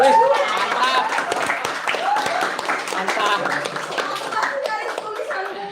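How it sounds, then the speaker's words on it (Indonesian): Audience clapping at a student film discussion event, a lively burst of many hands with children's voices and chatter overlapping, and a brief spoken word near the start. "Oke, kasih tepuk tangan."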